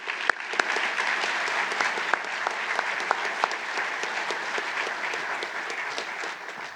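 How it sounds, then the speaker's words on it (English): Lecture audience applauding honorees at an MLK event, sustained, even clapping from a large crowd with a few sharp individual claps standing out, steady throughout. "Let's give our honorees another round of applause."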